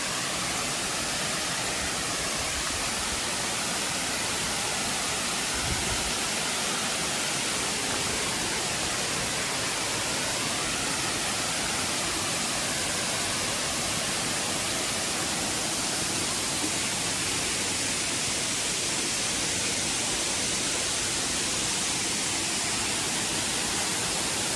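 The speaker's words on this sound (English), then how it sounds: "to have a view on the waterfall." Namuang Waterfall on Koh Samui, set in jungle, roars as a steady, loud, broadband rush of falling water, continuous and unbroken throughout with no voices.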